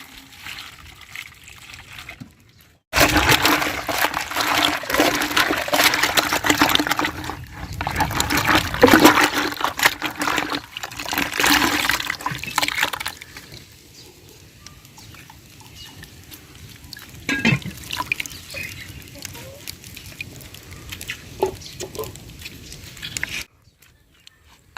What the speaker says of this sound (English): After washing, rinse the sponge in clean water